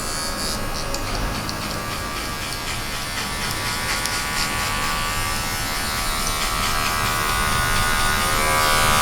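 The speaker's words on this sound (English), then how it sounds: "The one clipper all the way down." An electric hair clipper with its blade set all the way down buzzes steadily and close for a fade haircut, a continuous motor whine that grows slightly louder toward the end.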